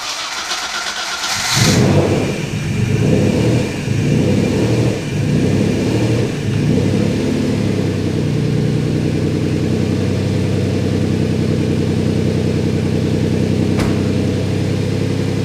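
A twin turbo Ford Capri engine cranks and fires after about a second and a half, then settles into a steady, loud, rumbling idle that runs on unchanged, heard up close with no talking.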